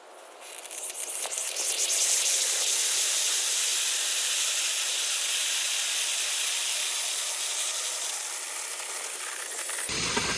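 A pressurized water line hisses loudly as its valve is eased open, a steady broad rush that builds over the first two seconds and holds near and strong, with a gasket beginning to fail, before cutting off abruptly at the end.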